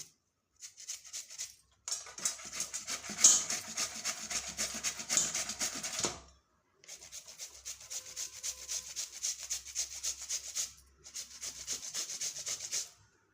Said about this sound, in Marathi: त्यानंतर आपण ही भोपळा किसून घेऊया